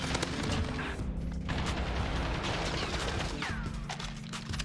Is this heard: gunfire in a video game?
yes